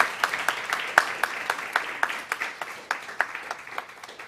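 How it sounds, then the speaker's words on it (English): A small seminar audience claps for a speaker after a talk on climate change and migration, a thin, sparse round of distinct individual hand claps, fairly quiet and irregular. "I suggest giving a round of applause to our speaker"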